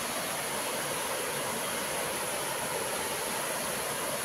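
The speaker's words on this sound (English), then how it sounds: "they might have created this waterfall." Steady, dense rush of a natural waterfall in Kashmir, a constant broadband roar heard alone without voices.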